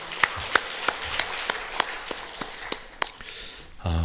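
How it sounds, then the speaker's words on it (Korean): A church congregation gives a short, sparse round of clapping, individual claps spaced and fairly distant, fading out before a louder sound cuts in at the end. "우리 주님께 영광의 박수 올려드리겠습니다"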